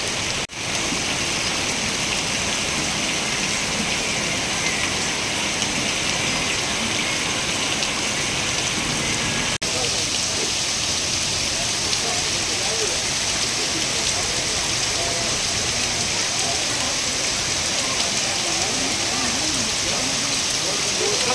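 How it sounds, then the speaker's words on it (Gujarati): Heavy rain pours down in Panthawada, a dense, steady hiss of drops drumming on surfaces close by, continuous and loud from start to finish, with a sharp knock near the beginning. "રાજસ્થાનના વિસ્તારોમાં પણ વરસાદ ખાબક્યો છે"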